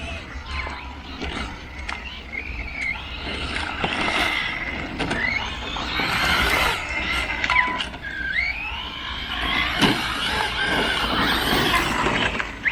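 A Reely Deathwatcher 6S RC car drifts with its tyres overheating, its electric motor whining in rising and falling sweeps over tyre scrub, with voices faintly in the background.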